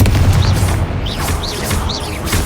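Confringo blasting spell explosions in the video game Hogwarts Legacy: loud, deep booming blasts with whooshing magical swirls layered on top, one impact after another in quick succession, close and heavy.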